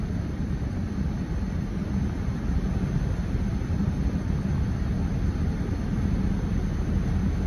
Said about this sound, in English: we're gonna gently push the throttle up to 2000 RPMs and just kind of hold it there for a little while